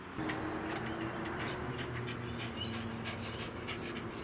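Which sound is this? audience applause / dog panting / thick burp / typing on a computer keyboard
dog panting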